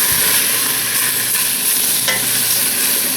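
Garlic is stirred through a pot for a vegetarian stew, a loud, close, continuous sizzle with scraping and stirring noises and a few brief clinks, with no voices.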